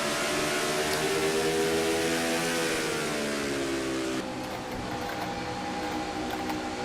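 A race car engine revs and accelerates in a racing video game from an in-car view at North Wilkesboro, the pitch climbing steadily before an abrupt gear change drops it, loud and close with no talk.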